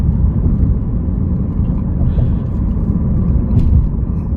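A 2016 Lexus IS200 2.0T driven in sport mode over bumpy roads gives a steady, loud low road and engine rumble heard from inside the cabin, constant throughout with no talking.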